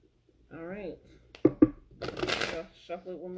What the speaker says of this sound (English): Shuffle it one more time.